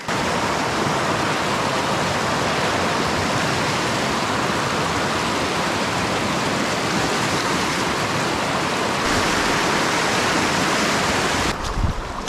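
Whitewater rushing at a deep river crossing during a packrafting trip, a loud, steady broadband roar of churning water filling the whole stretch with no letup and no voices.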